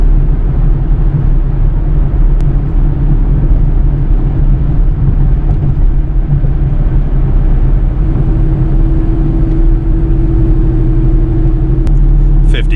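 Pontiac G8 GT with an older exhaust setup drumming in a steady low rumble while driving at about 50 in cold weather, constant and continuous from inside the car with a faint tone rising partway through.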